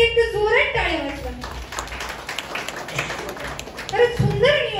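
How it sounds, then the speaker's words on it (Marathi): An audience claps in a short burst of applause at a gathering, the patter of hands filling the middle of the moment between stretches of a speaker addressing the crowd. "खरं तर त्यांच्यासाठी एक जोरात टाळ्या वाजवा"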